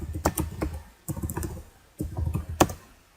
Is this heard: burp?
no